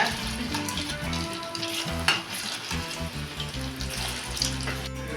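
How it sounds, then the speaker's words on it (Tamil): Pinwheel samosas fry in hot oil over a medium flame, a steady bubbling sizzle with occasional scrapes and clinks as they are turned, continuous and close with no talking. "அடுப்பை மீடியம் ஃப்ளேமில் வச்சு திருப்பி திருப்பி விட்டு வேக வச்சுக்கோங்க"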